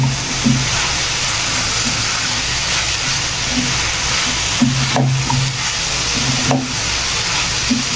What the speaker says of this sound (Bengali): এবার আমি এর মধ্যে ভেজে রাখা সব সবজি দিয়ে দিচ্ছি। সাথে পেঁয়াজ করে আর বাঁধাকপিটাও দিয়ে দিচ্ছি।